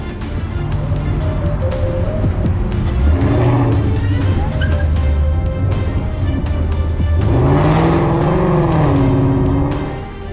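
A Mustang in a police pursuit, its engine surging as it speeds up, slows and accelerates again, with rising and falling engine tones close by and voices talking over the motor throughout.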